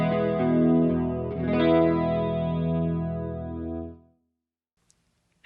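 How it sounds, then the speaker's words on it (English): Clean electric guitar chords with a chorus effect placed before the amp on a Fractal FM3, shimmering and wavering across sustained strums for about four seconds, then fading to silence. "And bringing that chorus in before the amp."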